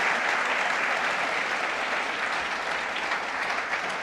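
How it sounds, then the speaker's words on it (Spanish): A church congregation applauds together, a steady, even wash of many hands clapping that holds at a constant level without pause, heard from within the room. "Le dan un aplauso al Señor"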